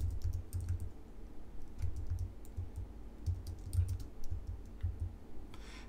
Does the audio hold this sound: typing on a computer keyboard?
yes